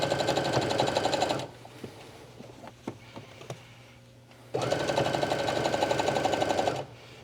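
Two bursts of steady, fast stitching from a sewing machine running a seam on yoga pants, loud and close, split by a pause filled with faint clicks and handling noises.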